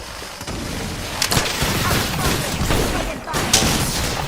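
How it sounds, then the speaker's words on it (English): Gunfire in the video game Apex Legends, with dense bursts of shots and booming impacts rattling continuously and loudly, with a few sharper cracks standing out. "Taking fire."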